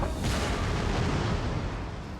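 Explosive ballista rounds slam into massed troops during a Total War Rome 2 battle, giving a dense, continuous roar of booming impacts and rumble that holds steady throughout at a loud level, with no voices.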